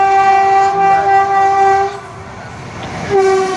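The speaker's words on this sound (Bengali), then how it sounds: "ওই যে দেখো ট্রেনটা চলে আসছে" A train approaching a rural level crossing where vehicles wait, sounding a loud sustained horn that breaks off briefly and resumes, with rumbling wheels underneath and no voices.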